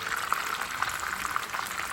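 Hot oil sizzles and crackles steadily around a whole red snapper frying, a dense bubbling hiss with scattered small pops, close and continuous.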